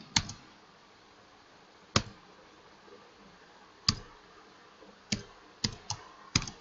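Scattered sharp key clicks on a computer keyboard while entering fixed asset data in SAP S/4HANA, about seven isolated taps spread irregularly over several seconds, close and fairly quiet with no talking.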